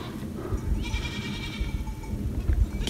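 Goats and young kids bleat on a Lycian Way mountain trail, a couple of thin, wavering cries rising over the shuffle and rustle of a moving herd close by.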